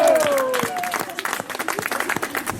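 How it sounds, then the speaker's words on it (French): An audience claps for a performer who has just finished an act at a gathering of cultural workers in Givors, a short burst of close, busy applause that starts under a fading voice and thins slightly toward the end. "quand un artiste finit un numéro, on l'applaudit"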